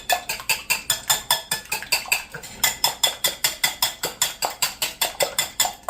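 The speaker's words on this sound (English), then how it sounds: "I'm going to beat the eggs" Eggs whisked in a bowl for French toast, a fast steady run of rhythmic clinking strokes with a brief pause partway through, close and bright, no talking.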